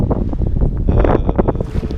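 Strong gusty wind buffeting the microphone on a coast at Angoulins during a wing foil session, with choppy water sounds mixed in, loud and close throughout.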